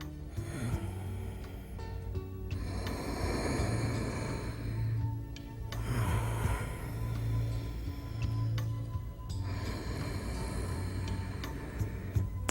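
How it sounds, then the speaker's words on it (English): Ujjayi yoga breathing, the slow, hissing, ocean-like breath drawn through a narrowed throat, heard close up in about three long, even cycles of inhale and exhale with no talking. "The kind of breath that's used in yoga is called Ujjayi, which means the breath victorious, and it sounds like this."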